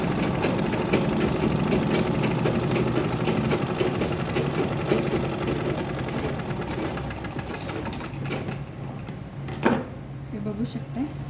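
A sewing machine runs steadily while stitching fabric for a makeup bag, a fast continuous mechanical chatter that stops near the end, with someone talking over it.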